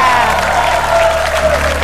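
A studio audience claps in loud, sustained applause that fills the room from start to finish, with a voice faintly over it.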